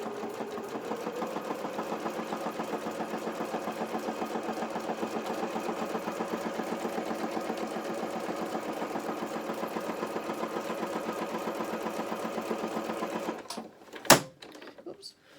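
A sewing machine stitches a doll's playsuit, running as a fast, even mechanical whir close by for most of the time, then stopping with a few clicks and a knock at the end.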